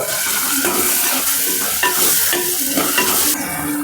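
Close-up sizzling of dried shrimp, bottle gourd, curry leaves and turmeric frying in a pan, with repeated scraping and stirring strokes against the metal.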